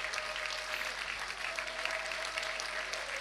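Audience applause at a Massafra game, a steady patter of many hands clapping at moderate volume for a few seconds, with a faint tone humming underneath.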